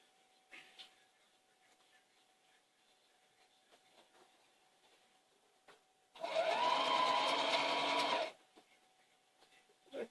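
A sewing machine stitches straight across a cloth pocket in one continuous two-second burst of steady motor whirring, preceded and followed by quiet handling sounds.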